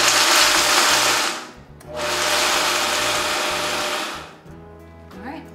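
A Vitamix A3500 blender runs in two loud pulses, grinding ingredients into crumbles with a harsh whirring roar, a short stop between bursts and a quieter tail at the end.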